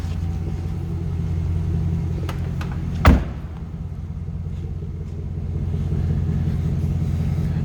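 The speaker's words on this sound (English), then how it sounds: "Nice little rumble coming out of that LS 2 engine" A 2005 Chevrolet SSR with a stock 6-liter LS2 V8 and no aftermarket exhaust idles with a steady low rumble, heard from the rear, broken by one brief sharp knock or thump midway.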